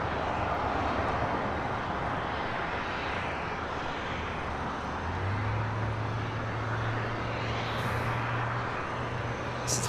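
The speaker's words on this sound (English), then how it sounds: "we do have that MD-11 about to touch down" An MD-11 cargo jet touching down at LAX, heard as a distant, broad rumble of engine noise that holds steady throughout, with a low tonal hum entering around the midpoint.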